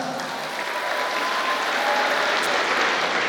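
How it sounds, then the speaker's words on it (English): An audience at a university runway fashion showdown bursts into sustained, dense clapping that swells slightly and carries on throughout. "come on, a round of applause for that."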